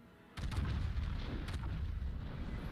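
The heavy battleship guns of the Tier 9 Japanese battleship Izumo fire in World of Warships, opening with a sudden loud boom and then a long rumbling roll, with a second blast layered in partway through.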